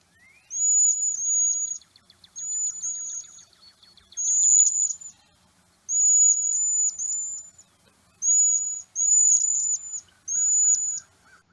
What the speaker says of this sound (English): This is clearly a winter resident, the white-throated sparrow